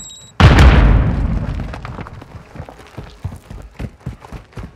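A close, loud grenade explosion in Call of Duty Modern Warfare 2 (2022) Team Deathmatch multiplayer: a heavy boom at the start with a long rumbling decay, followed by quick footsteps and small pops.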